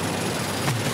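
Vehicle-mounted auto cannons firing in the video game Rage 2, a brief, loud, dense burst of rapid gunfire over a steady wash of game noise.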